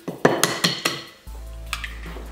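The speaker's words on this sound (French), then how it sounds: "On va mélanger bien entre chaque ajout." Utensil clinks against a bowl while eggs are mixed into potato dough for homemade gnocchi: five sharp taps in quick succession, then a steady low hum with a couple of fainter knocks.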